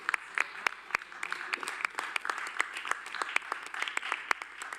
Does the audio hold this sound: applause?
yes